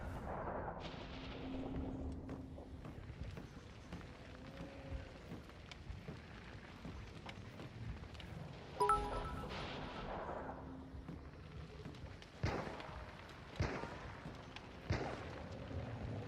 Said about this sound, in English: They're firing from the bottom.